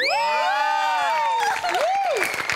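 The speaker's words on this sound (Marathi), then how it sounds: "जोरदार टाळ्या." A studio audience at the Marathi comedy show Maharashtrachi HasyaJatra gives loud cheers, with sliding vocal whoops at first, then broad clapping and crowd noise.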